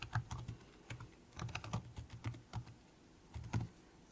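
Typing on a computer keyboard while filling in a first-name field on a registration form, with irregular soft key clicks and taps, close and quiet, no talking.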